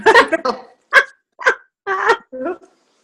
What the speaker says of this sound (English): look at your dog